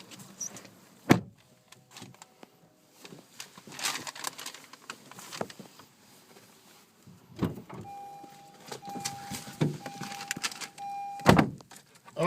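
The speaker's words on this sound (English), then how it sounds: "when you get in there and I close the door" Faint outdoor ambience at a Honda dealership with scattered clicks and thumps, one sharp thud of a Honda car door shutting, then a quieter, muffled, noise-cancelled interior hum.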